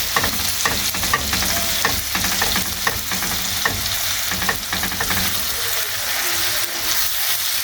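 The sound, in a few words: minced meat frying and stirred with onions in pan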